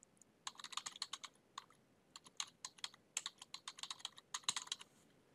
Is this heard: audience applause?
no